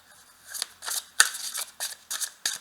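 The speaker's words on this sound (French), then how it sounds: "Donc je vais prendre une ou deux cartes." Oracle cards being drawn and shuffled from a deck, a string of short papery snaps and slides in quick irregular bursts, close and crisp with no talk.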